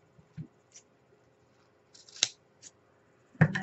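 Scissors snip through ribbon for a boutique pinwheel bow, a few short crisp cuts scattered across a quiet room, the last one louder and closer.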